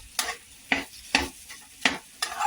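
Chopped potatoes stirred in a hot pan while making aloo pattice, five distinct scraping strokes in a loose rhythm, each with a brief sizzle, close and alone.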